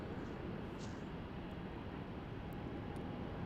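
A jet taking off from runway 27 at Melbourne Airport, a steady broadband engine roar heard from a distance that holds level throughout with no voices.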